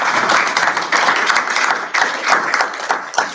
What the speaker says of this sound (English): So let's all say a big thank you and applaud the members of our Board of Education.